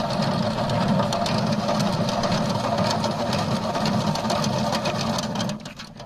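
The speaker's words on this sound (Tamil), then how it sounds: "சுற்றி எடுக்கும்போது பார்த்தீங்கன்னா தேன் வந்துட்டு ஒன் சைடு ஃபுல்லாக காலி ஆகிடுங்க" A honey extractor spins uncapped honeycomb frames with a constant loud mechanical whirring drone that runs steadily close by and drops off near the end.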